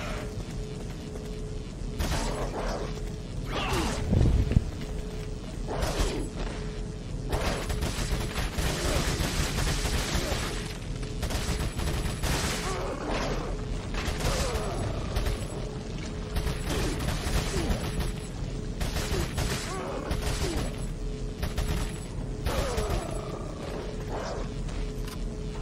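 Rapid bursts of gunfire in Resident Evil 4 crackle and roar almost nonstop, dense and loud, with explosive thumps mixed in and no clear voices.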